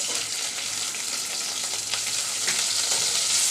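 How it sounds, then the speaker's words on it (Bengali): Shrimp fry in hot oil while being cooked for a lentil and helencha greens dish, giving a continuous bright hiss that grows slightly stronger near the end, close by and without talk. "চিংড়ি মাছগুলোকে একটু তেলের মধ্যে বেঁধে নিচ্ছি"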